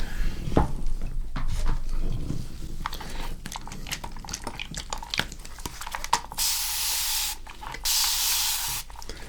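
A spray bottle releases a relaxing mist in a few quick, close hisses during a face-tattoo roleplay, preceded by soft clicks, taps and handling sounds with no talking.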